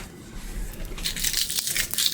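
Dried red chilies snapped and crushed by hand while making kochu bharta (taro mash), a burst of brittle close-up crackling that grows denser toward the end, with no talking.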